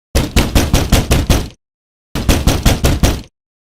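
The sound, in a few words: loud banging pounding on a locked door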